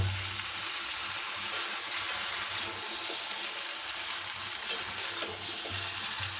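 Chunks of bottle gourd, potato and whole garlic cloves sizzle steadily in a hot pan, a constant bright hiss with a faint stirring scrape now and then.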